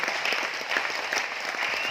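An audience claps hands together at a gathering in Aurangabad, Maharashtra, producing brief, steady, moderately loud applause with no talking over it.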